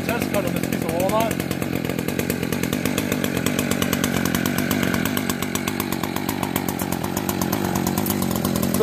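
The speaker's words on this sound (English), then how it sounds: "So we're going to do our test cut on this piece of walnut." An ECHO CS 590 chainsaw runs through a test cut on a walnut log about a foot across, a loud, steady, buzzing engine drone held near and constant throughout, with a voice talking over it.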